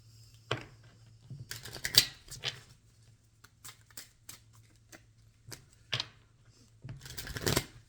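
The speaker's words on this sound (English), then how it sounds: "I feel like playing with one more deck of cards here." Cards being handled and shuffled at close range: bursts of riffling and snapping, each lasting a second or more, separated by quieter gaps and light taps, with a steady low hum underneath.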